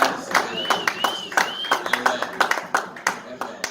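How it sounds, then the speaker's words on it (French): Congregation at a church service clapping hands in a steady rhythmic beat, sharp repeated claps close by with voices and cheering mixed in throughout. "put your hands together"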